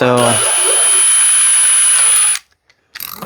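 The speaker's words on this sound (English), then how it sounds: "really small drill bit to get a pilot hole" A power drill with a very small bit whines steadily at close range for about two seconds drilling a pilot hole for a hood rain guard, then stops abruptly; a brief word is spoken at the start and faint clatter follows.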